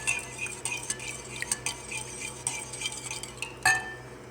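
A spoon knocks and scrapes against a bowl while egg paratha ingredients are mixed with a spoonful of oil, a quick irregular run of close clinks with one sharper ring near the end, no voices.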